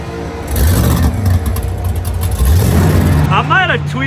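Car engine at wide open throttle in a burnout box at LS Fest Texas, a loud sustained rising and falling engine roar, with voices heard over it toward the end.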